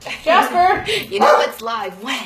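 A pet dog named Jasper barks and yips several times during a home livestream, loud and close, with someone talking over and between the barks.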